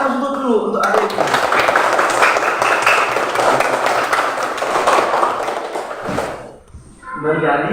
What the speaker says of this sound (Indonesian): Kasih aplaus dulu untuk adik.